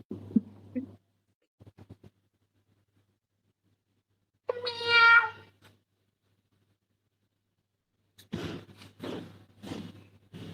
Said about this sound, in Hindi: जो म्याऊं बोलने लगी